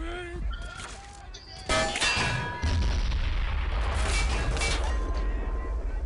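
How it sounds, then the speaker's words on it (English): Heavy booming blasts from a mortar in the Men of War: Assault Squad game, with a sudden loud impact partway through and rumbling battle noise continuing to the end, along with scattered higher game sounds. "And my mortar killed my own guy."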